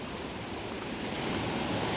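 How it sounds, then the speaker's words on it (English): Steady rushing water beside a hiking path on the Appalachian Trail near Laurel Fork, a broad continuous wash of flowing stream or falls holding even and close throughout, with no voices. "Nice sound of water throughout this hike."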